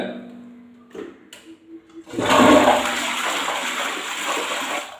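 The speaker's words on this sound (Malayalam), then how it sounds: "ഇതുപോലെ ഒന്ന് ഫ്ലഷ് ചെയ്ത് കഴിഞ്ഞാൽ" A few soft clicks and knocks, then a toilet flushes with a loud rushing gush of water that settles into a steady refill roar.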